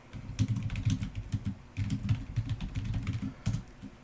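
Close computer keyboard typing in quick, uneven bursts of clicky keystrokes with brief pauses, as someone writes code, with no talk.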